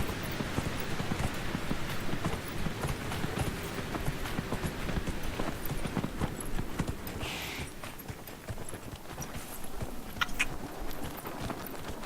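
Horse hooves clip-clop at a steady walking pace in the video game Dragon Age: Inquisition, fairly soft, with a light wash of ambient noise behind them.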